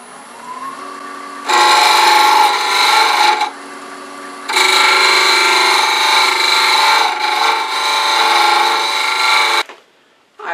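A heavy-duty scraper cuts deep inside a white oak salt and pepper shaker on a lathe, two loud sustained rasping passes with a short pause between, over a steady machine whine that drops away at the end.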